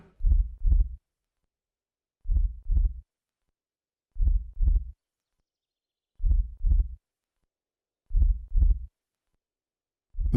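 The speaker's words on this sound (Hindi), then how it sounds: "मेरे इस दिल की धड़कनें" Film heartbeat effect: deep, muffled double thumps repeating steadily about every two seconds, isolated against silence.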